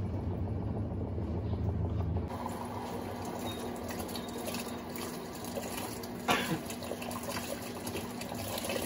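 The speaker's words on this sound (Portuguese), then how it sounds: "Entrada de água para o primeiro enxágue." A Colormaq 11.5 kg top-load washing machine (LCA12) fills with water for its first rinse, a steady loud rush of inflowing water with a constant hum and a brief clunk partway through.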